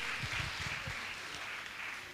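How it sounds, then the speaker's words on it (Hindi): An audience at a Jain religious gathering claps to honour trustees, a steady wash of applause with a dense patter of hands that holds at an even level throughout, no speech over it. "आप जोरदार ताली बजाकर इनका सम्मान करें।"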